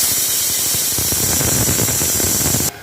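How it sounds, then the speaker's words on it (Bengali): A pressure cooker on a gas stove, holding a chicken curry, vents its built-up steam pressure in a loud, continuous hiss. The hiss holds steady for almost three seconds and then cuts off abruptly. "আমি যেটা করবো একটু প্রেশারটা রিলিজ করে দেবো"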